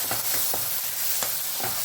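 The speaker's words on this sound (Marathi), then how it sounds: "हे तेलात पूर्ण आपण हे फ्राय करू" Onion, garlic and ginger paste frying in hot oil, a steady close sizzle with a few soft scraping stirs at intervals and no talk.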